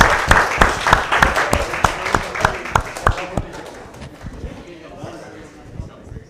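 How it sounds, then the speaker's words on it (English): Applause at a student hackathon finals awards announcement: a crowd claps in sharp, rhythmic unison beats for about three seconds, then breaks into scattered, fading clapping and murmuring voices. "Give yourself a round of applause."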